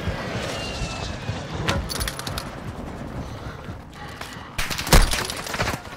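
A precision strike in a duos video game match brings rapid bursts of gunfire and explosive impacts over a low aircraft drone, with sharp, loud blasts near the middle and end.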